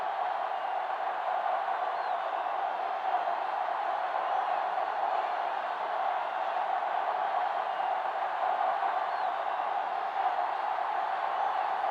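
Stadium crowd in the video game Madden NFL 08 on PS2 during a Broncos versus Browns game, a steady distant wash of crowd murmur with no distinct cheers or talking.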